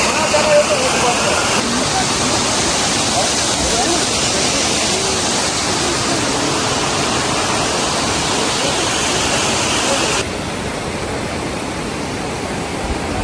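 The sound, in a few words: rushing water at a landslide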